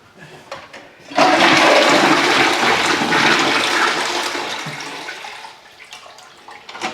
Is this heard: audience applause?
no